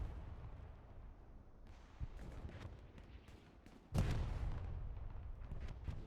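A friendly grenade goes off in the World War II shooter Hell Let Loose, a sudden boom partway through amid a low rumble of distant battlefield gunfire, fairly faint.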